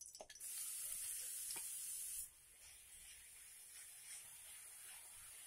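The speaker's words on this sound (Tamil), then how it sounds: "இதை நல்லா ஃப்ரை பண்ணிக்கலாம்." Carrots fry in melted ghee in a pan for carrot halwa, a soft hissing sizzle that is stronger for the first two seconds and then settles to a quieter, steady fizz, with no voices.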